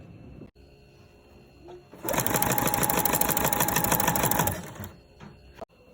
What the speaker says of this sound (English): now that you have it all clipped around, you'll just sew all the way around.